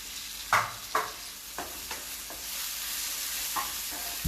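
Red chili powder hits hot tadka oil for dal, giving a steady sizzling fry with a few sharp stirring clinks and scrapes spaced through the clip, close and moderately loud.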